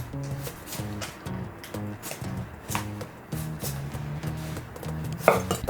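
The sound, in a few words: knife slicing eggplant into strips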